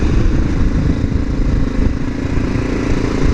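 Steady, loud engine drone of a motorcycle being ridden along a road, a continuous low rumble with wind noise throughout and no pauses or talking.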